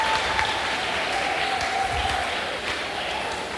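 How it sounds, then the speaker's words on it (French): Sustained applause with some cheering from the audience at an Afro Gospel Award event as a choir leaves the stage, a steady wash of clapping throughout. "sous vos applaudissements, la chorale va descendre."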